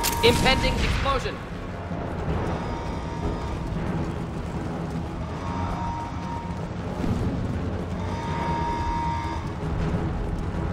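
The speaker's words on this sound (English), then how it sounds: "Impending explosion." An explosion in the video game Mass Effect 2 sets off with a loud burst, then settles into a long rumbling roar with crackling debris under background sound and talk.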